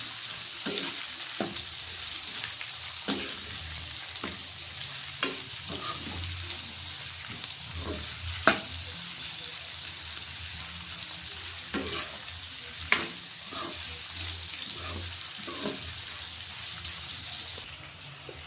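Onions frying in a pan hiss steadily while a spoon stirs them, scraping and tapping the pan in irregular knocks over a constant soft sizzle, with no voices.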